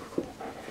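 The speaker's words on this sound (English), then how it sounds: "He's a sweet dog." A dog pants briefly and close by in short, soft breaths, with a small sharp whimper-like sound near the start.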